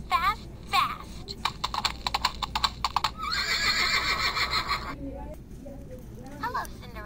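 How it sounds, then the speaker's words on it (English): Cartoon horse ridden fast by a princess: clip-clopping hooves run steadily under a cheerful children's song, with loud whinnies near the start and end and a voice talking along. "She rides her horse fast, fast, fast."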